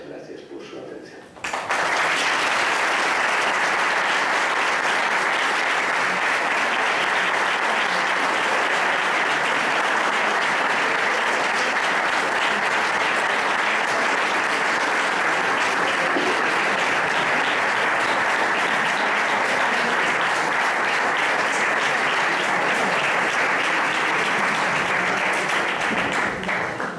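Sustained audience applause after a lecture on Teresa de Jesús, starting abruptly and continuing loud and dense for over twenty-five seconds as steady clapping from a large hall crowd.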